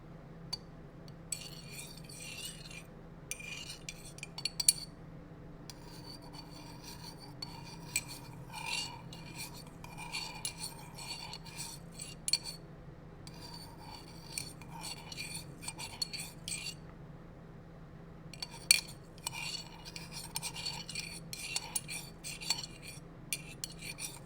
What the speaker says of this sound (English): Now I'm gonna mix it all up, because it does require a little bit of a stir.